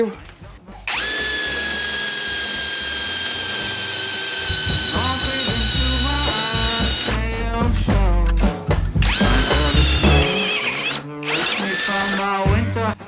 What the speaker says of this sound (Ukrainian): Відразу перевіримо, як сверлить сверлом 10 мм.